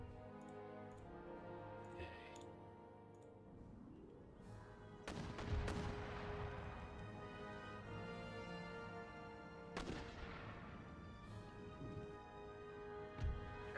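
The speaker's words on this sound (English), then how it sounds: "Enemy mortars are firing." Enemy mortars firing in Empire: Total War, heard as several heavy booming blasts over a dense battlefield din, with sharp impacts around five, ten and fourteen seconds amid ongoing rumble.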